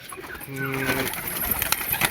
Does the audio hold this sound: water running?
no